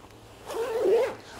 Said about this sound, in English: So it's got some big vents underneath the arms, protected with a YKK zip